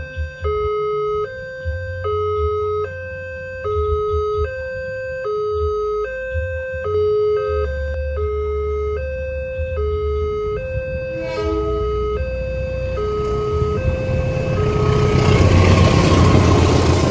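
A loud two-tone railway level crossing warning siren alternates in a steady high-low rhythm, with an idling engine rumbling underneath and rising noise near the end.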